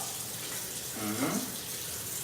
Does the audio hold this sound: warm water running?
yes